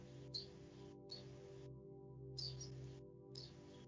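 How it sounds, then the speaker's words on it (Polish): Small birds sing outside a window in soft, repeated bursts of high chirping, each lasting under a second with short gaps between them, over a steady low indoor hum. "Tu ptaszki mi za oknem śpiewają i też nas zapraszają."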